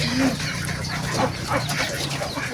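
Ducks crowd a duck pen where a batch of egg-laying itik is kept, giving a busy, continuous chorus of close, overlapping quacks and calls with no voices.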